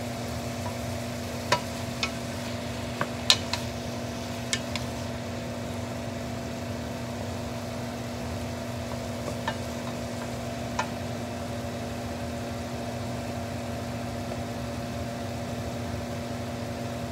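Beef for a cheeseburger frying in a pan over medium heat gives off a steady low sizzle, with scattered sharp pops and spits breaking through during the first few seconds.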